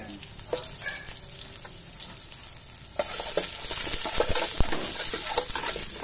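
Onions sizzle and crackle in a hot pot over a wood fire, the frying growing louder partway through as they are stirred, with scraping clinks over the steady hiss.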